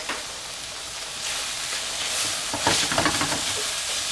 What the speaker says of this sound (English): Alright, we're going to saute that on.